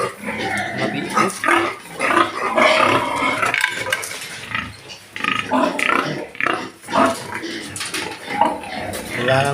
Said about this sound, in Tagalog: Tingnan natin yung mama. Doon. Yung mga biik ko.